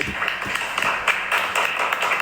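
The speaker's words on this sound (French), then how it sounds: "vous devez forcément applaudir ce que je vais dire maintenant" A studio audience at a French challenge show applauds in a steady, sustained wash of clapping, with individual hand strikes crackling through at a moderate distance.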